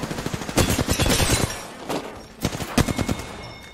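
Gunshots in Apex Legends, where a Kraber sniper rifle is in use, arriving as loud close clusters of firing with a gap in the middle, heard alone with no talk.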